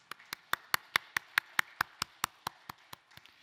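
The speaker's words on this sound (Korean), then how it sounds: "영광의 박수 올려드리겠습니다." A church congregation claps at a Sunday worship service, with about fifteen evenly spaced, crisp claps in a steady rhythm that are fairly quiet and heard alone.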